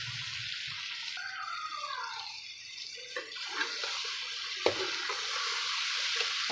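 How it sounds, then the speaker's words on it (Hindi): Petha vegetable fries in masala in a pan, a steady sizzle under scattered stirring scrapes and a few clinks of the spoon. "अब सब्ज़ी को अच्छे तरीके से हमने इस मसाले के अंदर फ्राई करना है।"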